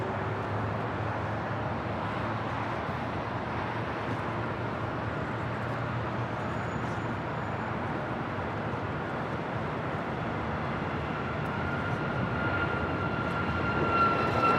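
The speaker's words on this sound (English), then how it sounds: "United Airlines Flight 279 heading to Tampa, Florida, 737 MAX 8." A United Airlines Boeing 737 MAX 8 takes off from the south side of LAX, its engines a steady, broad jet roar that holds throughout and swells slightly toward the end, with no voices.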